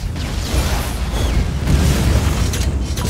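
Muffled explosion behind the player in the video game Lost Planet, a deep rumbling boom that swells and lingers for a few seconds amid low, dense game noise, with no talking.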